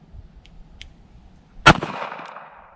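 One sharp, loud gunshot from a Taurus PT738 TCP .380 pocket pistol fired at a small steel plate, close by, with a brief ringing tail after it and quiet before it.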